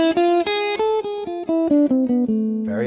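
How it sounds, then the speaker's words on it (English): A harmonic minor scale played note by note on a single pitched instrument, about a dozen evenly spaced notes descending step by step, clear and close with no other sounds. "Here's harmonic minor."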